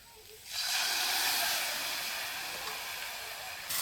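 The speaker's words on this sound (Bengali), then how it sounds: "আমি চিংড়ি মাছটা দিয়ে দিচ্ছি মশলা জলটা দিয়ে দিচ্ছি" Prawns and spiced water hit a hot cooking pan in a Bengali village kitchen, setting off a sudden loud, steady hissing sizzle that holds for a few seconds and then slowly eases.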